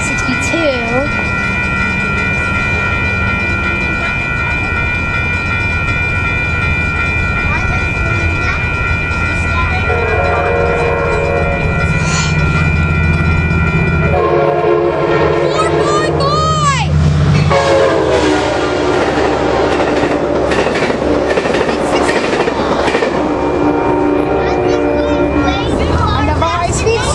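Amtrak 462 passes at Carlsbad Village with a loud, sustained multi-tone horn, then rumbling wheels and rapid clattering as the cars rush by close. A voice is heard briefly over the noise.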